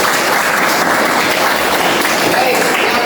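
Students applauding in a classroom during a teaching practice lesson, a loud, continuous wash of clapping that fills the whole moment with no break.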